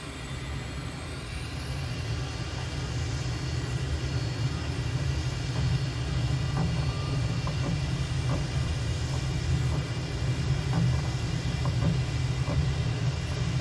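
A fighter jet engine, the IndiaFoxtEcho M346 in the MSFS 2020 flight simulator, roars steadily during a takeoff roll, with a dense low rumble and a rising high whine.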